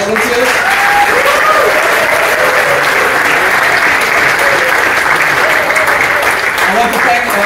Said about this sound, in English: ladies and gentlemen, round of applause for our volunteers